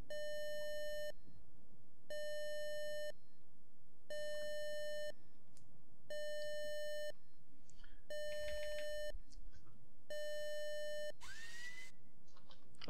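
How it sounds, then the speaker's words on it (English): Cockpit warning tone in a Just Flight Tornado GR1 jet simulator, sounding as steady, loud electronic beeps in even one-second bursts with one-second gaps, repeating six times, followed by a short rising chirp. "if you want to stop that really annoying beeping, just rock both of the throttles back over to the right"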